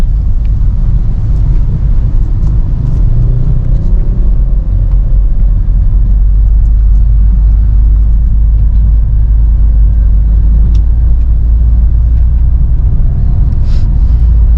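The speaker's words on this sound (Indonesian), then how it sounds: "POV driving singkat dari Peugeot 307 Station Wagon ini tahun 2003 bensin matic" Inside a 2003 Peugeot 307 station wagon with a petrol engine and automatic transmission, a loud, steady low engine rumble and road noise as the car drives along, no talking.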